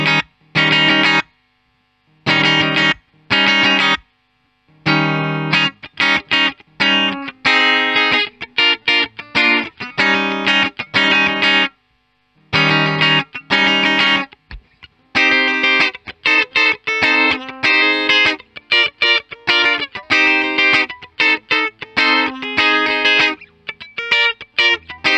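Distorted electric guitar played on a Telecaster's bridge pickup, a choppy riff of short chords and stabs separated by brief silences, loud and close with no voices.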